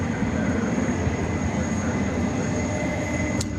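A passenger jet passes at night at DFW Airport, a steady broad roar with a sustained high whine, fairly loud and continuous, with no talking.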